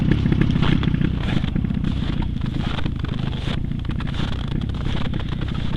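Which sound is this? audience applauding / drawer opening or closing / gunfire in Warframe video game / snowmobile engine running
snowmobile engine running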